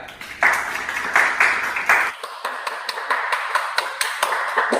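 An audience applauds the newly introduced CEO of Sahai Industries, Mr. Arya Sahai, with a dense burst of clapping for about two seconds that thins into scattered, individual claps.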